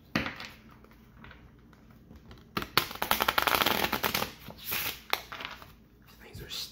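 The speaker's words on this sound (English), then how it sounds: "so I'm gonna shuffle these and it says give out 5 cards" A stiff new deck of cards is shuffled during a card game, a quick crisp riffling burst of a second or two, close and fairly loud, with softer handling taps around it and people talking nearby.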